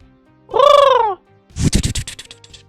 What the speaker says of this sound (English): Your crow sounds like a pigeon these days.